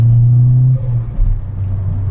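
A turbocharged Renault Clio 172 Cup idles with a loud, close engine drone, then the revs drop with a short fluttering burble as the turbo releases.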